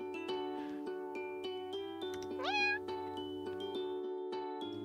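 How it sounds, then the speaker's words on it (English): A cat meows once in the game Purrfect Date, a short rising cry standing out over a steady tonal background music track. "cat noises in this game"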